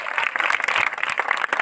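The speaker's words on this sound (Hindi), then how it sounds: "इसका तो इस बार जोरदार तालियां इसके लिए दीजिए" Brisk clapping from an audience at a National Service Scheme closing ceremony in India, a short, dense patter of hands that stays steady throughout.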